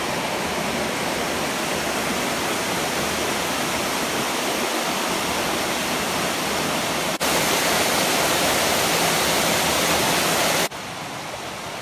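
A waterfall near Eden Rock on the Buffalo River in the Arkansas Ozarks roars as a steady, loud, broadband rush of falling water, with no voices and only a slight shift in level partway through.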